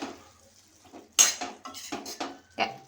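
Ridge gourd curry with green chilli paste and salt is stirred in a pan, giving sharp metal clinks and scrapes of a spoon in uneven bursts against a quiet background, with barely any sizzle.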